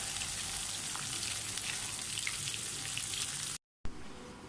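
Pieces of yogurt-marinated chicken fry in hot oil with a steady, close sizzling hiss and a scatter of small pops. The frying cuts out briefly near the end and then starts again.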